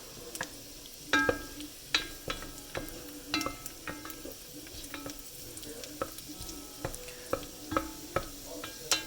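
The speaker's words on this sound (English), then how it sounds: "Let's let that cook for a minute." Curry rice cooking in saved bacon fat, with a steady sizzle and frying hiss under repeated sharp scrapes and clinks of a utensil stirring the pan, close and moderately loud, with no talking.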